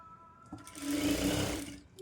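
Sewing machine stitching a small child's blouse, a steady close motor whir that swells after a brief start and runs continuously for about a second before easing off.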